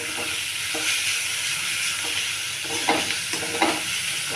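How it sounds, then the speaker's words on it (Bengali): Noodles seasoned with salt and turmeric are stir-fried in a pan: a steady hiss of frying runs throughout, broken by several distinct scraping stirs near the end, with no one talking. "ভালো করে একটু নেড়ে চেড়ে ভেজে নেব।"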